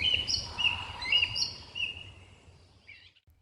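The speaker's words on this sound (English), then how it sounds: "the morning birds begin to play their tune" Birds chirp and call in a quiet outdoor setting, a few high tweets rising and fading before the sound trails off.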